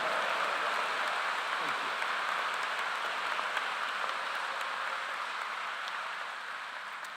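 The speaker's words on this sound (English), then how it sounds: "Please join me in a round of applause for these individuals." Audience applause at a university commencement ceremony, an undergraduate graduation in a large hall, heard as a broad, even rain-like wash of many hands clapping that holds steady and begins to fade near the end.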